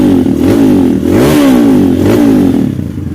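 A Kawasaki KLX motorcycle engine runs loud and close, revving up and down in a few swells with a rough, busy mechanical tone throughout.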